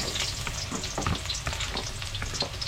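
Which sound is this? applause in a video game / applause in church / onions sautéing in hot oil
onions sautéing in hot oil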